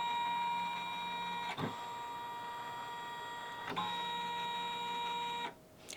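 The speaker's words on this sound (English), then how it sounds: "the machine has just taken all of this stuff back to its home position." A Janome embroidery machine, one of the 550E, 500E or 400E models, whirs steadily with a mechanical hum as it moves back to its home position. There are two brief clunks partway through, and the hum stops near the end.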